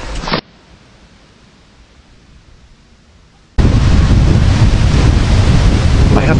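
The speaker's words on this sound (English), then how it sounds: "There is a dark wind blowing out." Wind blows out of a cave hole, a steady dark rush that starts faint and then swells abruptly into a loud, continuous roar buffeting close to the microphone.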